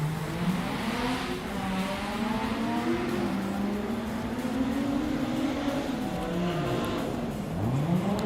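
Drift cars in a tandem battle at Drift Kings Asia 2023 Round 2 in Malaysia, engines roaring loud and steady, with pitch sweeping up and down as the cars rev through the run.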